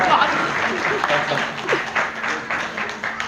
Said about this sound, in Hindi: एक बार माधवानंद की भी जो है तालियां जोरदार होनी चाहिए।